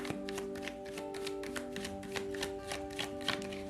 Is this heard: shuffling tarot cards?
yes